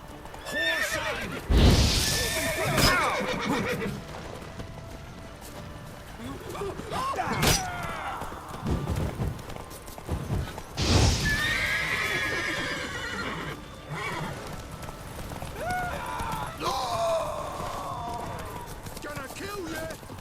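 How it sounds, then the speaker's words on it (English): Repeated horse whinnies and clopping hooves in The Witcher 3 video game, mixed with heavy thuds and impacts, with several loud neighs spread across a busy, fairly close soundscape. "Horse"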